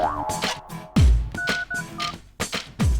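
Telephone dialing tones in a movie scene: a quick series of distinct keypad beeps, loud and close, with a few low thumps between the tones.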